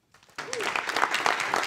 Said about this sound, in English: Please give a warm round of applause for Eric